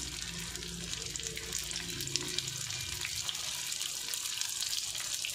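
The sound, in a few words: lumpia with century tuna frying in hot oil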